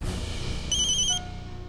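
A brief electronic phone tone chirps once, a high steady warble lasting about half a second and then fading into low background hum.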